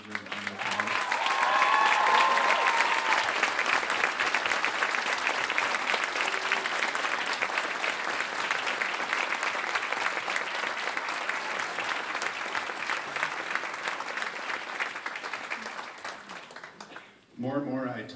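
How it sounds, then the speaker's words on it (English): Audience applause for the teachers at a youth honour band concert, a dense, steady clapping from a large crowd lasting most of the clip before fading near the end. "could you stand up once again and take a huge, well-deserved round of applause?"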